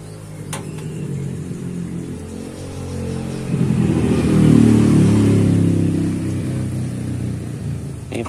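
A car engine idling roughly because of a dirty ISC (idle speed control) valve, a close steady rumble that surges up in the middle and then settles back unevenly.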